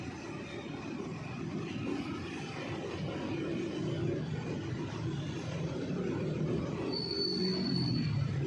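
A commuter train rolling through Jatinegara station in Jakarta, a steady close rumble of wheels on rails with a high metallic squeal coming in near the end.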